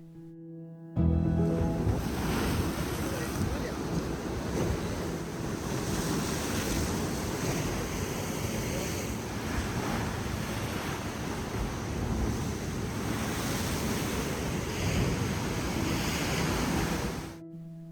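Ocean surf at Manly Beach, Sydney, rolls in a steady, loud wash of breaking waves with wind buffeting the microphone, continuous and without voices.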